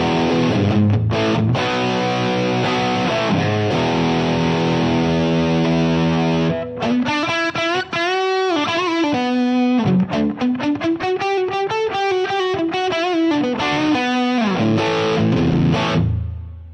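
Heavily distorted electric guitar through a Line 6 Helix Marshall amp model plays sustained chords and then a melodic lead line with bends, loud and saturated with amp gain, no voices.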